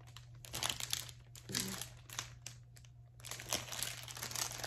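Sheets of patterned craft paper with dog and llama designs are handled up close, giving repeated crisp crinkling and rustling bursts with short pauses between them, with no talking.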